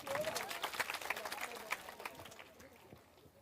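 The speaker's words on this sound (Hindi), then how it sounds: "एक बार लक्षण देव जी के लिए जोरदार ताली बजाइए" A political rally crowd claps for a speaker, a brief burst of scattered applause from a distance that thins and fades out within a few seconds.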